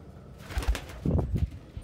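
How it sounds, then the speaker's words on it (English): A pet bird, Pitch, gives a few soft low coos in a quiet room, two short murmuring bursts close by with no talking. "Bird's awake."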